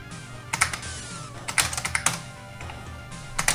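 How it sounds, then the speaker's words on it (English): Typing on an IBM Model M mechanical keyboard with buckling spring switches, loud clacky keystrokes landing in short irregular clusters, close and alone. "the perfect controller for the ultimate home experience is an IBM Model M mechanical keyboard with its buckling spring mechanisms"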